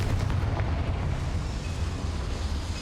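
Spell explosions from the video game Hogwarts Legacy boom in a dense, continuous rumble of blasts, loud and close, with no voices over them.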